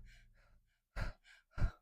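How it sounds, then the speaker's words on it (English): Rapid breathing exercise with quick, forceful breaths, two loud sharp bursts of air after softer, rougher exhalations, close and alone. "like breathing very fast"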